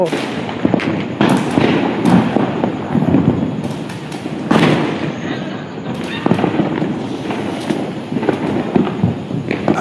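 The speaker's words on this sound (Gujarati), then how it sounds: "કેટલા બધા ફટાકડા ફૂટે છે" Loud Diwali firecrackers burst in rapid, irregular succession in Bhavnagar, India, sharp cracks and booms piling over one another with a constant crackling din in between.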